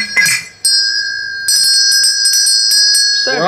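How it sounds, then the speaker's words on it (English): A small bell marked Made in China, pulled from a box in a storage unit, gives one clear ring and then a quick run of bright, repeated dings that linger close and loud. "The bell in there."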